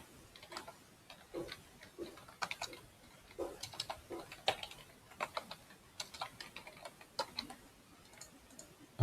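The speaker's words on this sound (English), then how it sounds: "just type in the first name, last name, and type my email" Light, quick keystrokes on a computer keyboard tap out irregular bursts of clicks at close range while someone enters registration details, with no talking.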